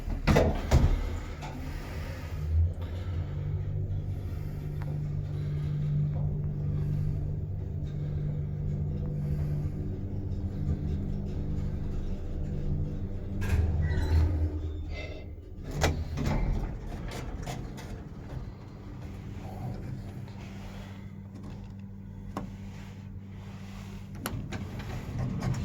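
A 1980s Otis traction lift with Lexan buttons, padded inside during building work, runs with a steady low motor hum and faint whine through the ride, briefly dropping about midway before resuming.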